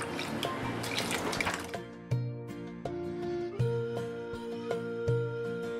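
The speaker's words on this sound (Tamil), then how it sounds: "ஸோ ஒரு முஸ்லீம் கிளாத்தில் வச்சு நம்ம வடிகட்டிக்கலாம்." Whey dripping and trickling from curdled milk strained through muslin cloth, a faint steady run of liquid with soft drops falling at regular intervals of about a second and a half.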